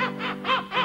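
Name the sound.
voice imitating seagull cries for a cruise ship scene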